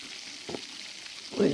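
Potatoes fry in a frying pan with a soft, steady sizzle, broken by a brief scrape of stirring and a louder clatter of the spatula near the end.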